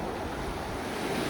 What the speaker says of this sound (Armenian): ջուրը գալիս, ծփում է այս սյուներին